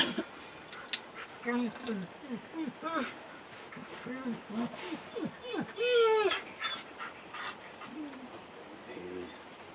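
A dog whines and whimpers in a series of high, wavering cries, close by, with short pauses between them.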